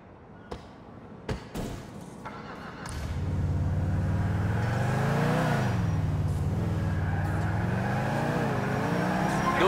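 A car driven by Niko in GTA IV: a few sharp clicks and knocks, then the engine roars up and holds a loud, steady drone with rising and falling revs.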